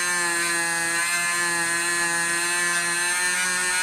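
A Dremel rotary tool spinning a wool felt polishing buffing pad without compound, giving a loud, steady high-pitched whine with a constant tone and no talking.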